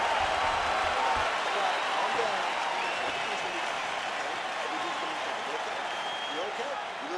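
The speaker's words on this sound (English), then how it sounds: "So the crowd voicing its appreciation after that round" Sustained crowd applause and cheering at a UFC fight event after a round ends, a steady broad roar of clapping holding level throughout with no pauses.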